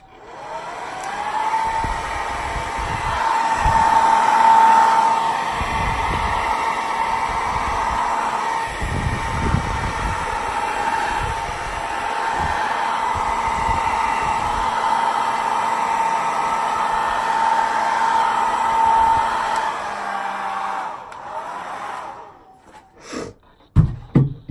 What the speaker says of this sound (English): now I'm going to take the hairdryer to it